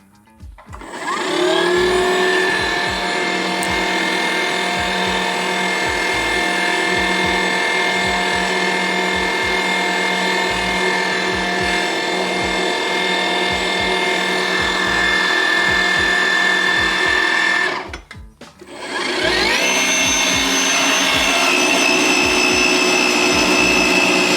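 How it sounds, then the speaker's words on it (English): A Milwaukee M18 FUEL cordless pipe threader cutting threads on pipe: loud, steady motor whine with rhythmic clunking, a brief stop near the end, then starting up again. "we threaded it at the 2-speed and at the 1-speed"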